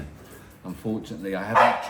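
Two playful dogs in a home barking and yipping in the background while someone talks over them, the short bursts brief and partly masked by her voice.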